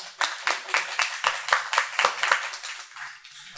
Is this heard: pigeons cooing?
no